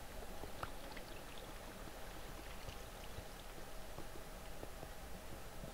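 Waterfall in Minecraft, a steady, even rush of falling water with a soft trickling texture, constant and moderately loud throughout with no talk over it.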